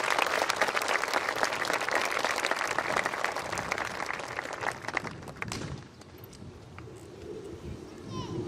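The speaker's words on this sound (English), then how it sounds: "let's give a big round of applause to Mr. Jesus Magana." School assembly audience applauding a speaker at a class of 2019 event, loud dense clapping for several seconds that fades out, followed by quieter room noise.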